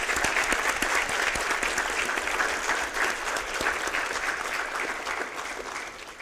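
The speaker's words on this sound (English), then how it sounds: "Let us celebrate them with a round of applause." Steady applause from a large crowd at an award ceremony, dense and continuous throughout, easing slightly toward the end.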